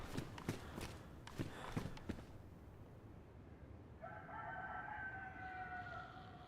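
Rooster crow in the DayZ video game, a long drawn-out call rising in the second half over a wintry outdoor ambience, preceded by several sharp footstep-like thumps.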